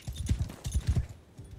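A horse's hooves in the video game Mount & Blade II: Bannerlord beat out a soft, steady galloping clip-clop in quick, low thuds at moderate distance.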